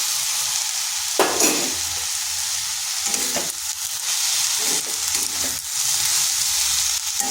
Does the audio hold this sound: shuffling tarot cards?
no